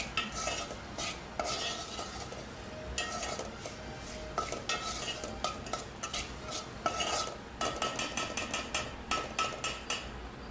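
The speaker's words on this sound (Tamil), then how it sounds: "மிளகாத்தூள், உப்பு சேர்த்து அந்த மிளகாத்தூள் வாசனை போகிற வரைக்கும் நாம் கொஞ்சம் வதங்கிக்கலாம்" Chili powder and salt sautéed in a pan, steady spatula stirring and metal scraping with a low sizzle, rhythmic clinks growing faster toward the end, no talk.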